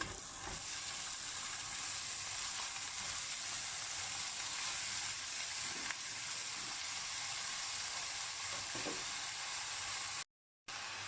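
Chopped cabbage hits a pan of well-sautéed onions with red pepper flakes and sizzles in a steady, loud fry that holds throughout, with faint stirring and no talk, cutting off abruptly near the end.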